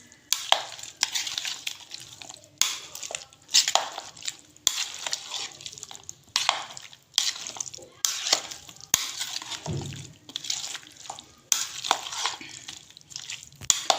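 Chili paste being mixed into vegetable korma, repeated bursts of stirring and scraping in a pan with wet sizzling between them, close up, irregular strokes roughly every second, no talking.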